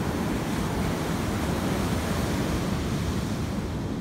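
Ocean waves and surf at Jacksonville beach at sunrise, with a high tide rolling in: a steady, loud, broadband wash of breaking water and wind, unbroken and without speech.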